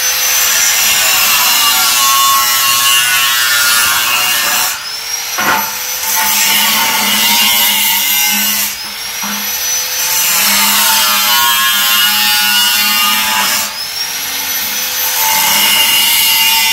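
Iron pieces for a grape trellis frame are cut with a steady, loud, close grinding whine that runs almost continuously, dipping in pitch three times as the blade bites through the metal.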